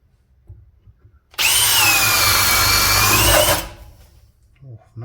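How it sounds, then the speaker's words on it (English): A Bosch 18V cordless drill in speed 2 bores a 20 mm spade bit through 2-inch-thick wood, giving one loud, steady, close whirring burst of about two seconds that cuts off sharply into near silence. "we've got a couple of spade bits we're going to try out here just to do some woodwork"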